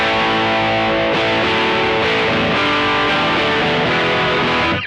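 Electric guitar played through a TC Electronic Nova Drive distortion pedal, loud and close, with a run of heavily driven, sustained chords that ring continuously before cutting off at the end.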